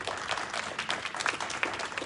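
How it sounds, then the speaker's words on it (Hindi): Brief applause from a church congregation, a soft patter of many hands clapping at moderate distance, with no talking. "तालियां बजाएं उस जलाल के लिए"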